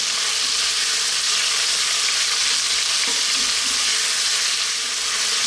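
Chicken and thinly sliced onion hiss in a hot pan or wok, a loud continuous sizzle with faint stirring scrapes underneath.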